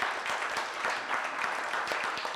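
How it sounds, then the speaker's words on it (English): Dense clapping from a conference audience after a panel discussion, a continuous wash of many hands applauding at moderate volume. "give them a big round of applause"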